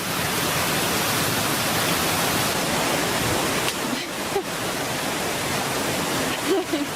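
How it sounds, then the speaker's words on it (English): A steady, dense roar of falling water, constant and enveloping throughout, with faint brief sounds near the end. "Another waterfall up there."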